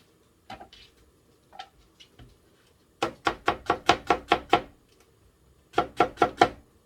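Chopping ingredients with a knife on a board for tuna, Spam and kimchi stew: a few scattered chops, then a rapid run of about eight sharp knocks, a pause, and a final burst of four, close and clear with no talk.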